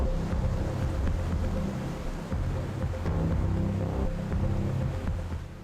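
A boat travels slowly across open sea near the Ram Setu area, its engine droning steadily under heavy wind buffeting and the rush of waves, loud and continuous.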